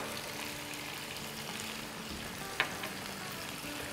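Chicken with yogurt and spices, including whole fennel, fries in a pan with a steady, soft sizzle and a single brief clink partway through; no talking.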